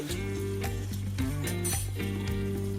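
Spicy chicken fry with mint sizzling steadily in a pan, a continuous hiss of frying under loud background music.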